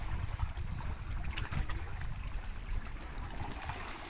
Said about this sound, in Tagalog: Medyo malakas yung alon nga, no?